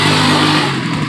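A bus on a street in Santo Domingo passes close by, its engine loud and rumbling with a steady low hum and revving tone that fades slightly over about a second.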